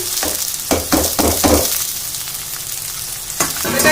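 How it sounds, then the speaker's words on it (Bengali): Rice fries with spices for biryani, a loud close sizzle broken by rhythmic scraping strokes of a spoon stirring through the pan, then a pause and more stirring. "ভালো করে কষিয়ে নেব"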